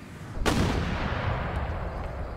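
A single cannon shot booms in Empire Total War, a sharp blast followed by a long rumbling decay over steady battle ambience.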